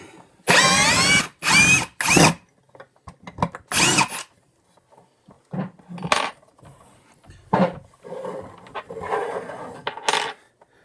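Ridgid cordless drill driving out a 4-inch lag screw, heard as several loud, close bursts of motor whine in the first few seconds, then shorter, quieter spurts of drilling mixed with clinking and handling noises.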